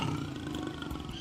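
A jaguar roars, a deep, powerful, continuous roar held close and loud for about a second, with no talking over it.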